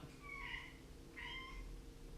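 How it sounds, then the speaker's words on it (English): A house cat meows twice in a kitchen, two clear rising calls spaced about half a second apart, close by over a steady low room hum. "That's a cat about to jump on a counter."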